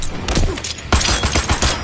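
Rapid gunfire bursts crackle in a Mortal Kombat X fighting match, a dense cluster of loud, sharp shots with a heavier blast near the middle, close and dominant.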